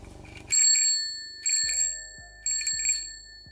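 An old, basic bicycle bell rung in three quick bursts, each a bright close metallic double ring with a lingering shimmer and a mechanical clack under it.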